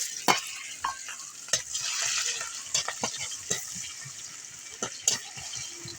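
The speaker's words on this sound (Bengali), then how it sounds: "কালো জিরেটাও একটু ভেজে নেব" Black cumin seeds fry in oil for an egg curry, a steady close sizzle with sharp spattering pops and spoon knocks against the pan at irregular intervals.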